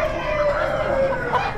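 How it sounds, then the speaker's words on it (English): A lot of hens at an Amish animal auction cluck and murmur in a brief, continuous burst, close by, with a faint voice in the background. "A cool lot of hens."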